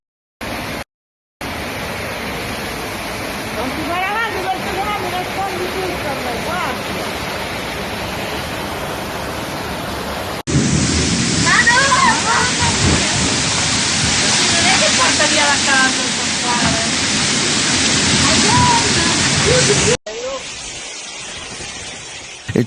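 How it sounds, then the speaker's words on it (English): Heavy rain and rushing floodwater in a storm with gale-force wind in Italy make a loud, steady roar throughout, with faint voices mixed in beneath the noise. "Torrential rain, accompanied by gale force wind, battered the region, caused widespread flooding"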